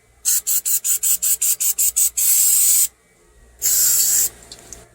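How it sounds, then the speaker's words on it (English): Rust being brushed off the magneto of a Coleman Powermate generator: about nine quick, rhythmic scraping strokes close by, then two longer sustained scrubs, loud and with no talking. "Just going to brush the rust off of here."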